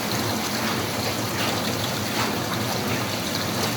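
Dirty rinse water drains from a soybean washing machine used for tempeh making once the tap is opened, a steady, loud rushing gush with no pauses and no voices.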